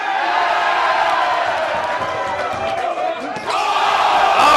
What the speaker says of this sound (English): The crowd responds.